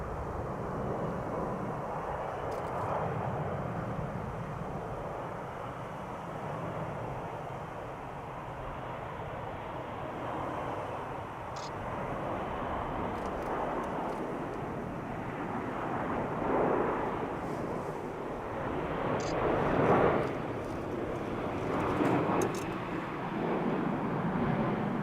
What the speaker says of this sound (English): Pretty good landing.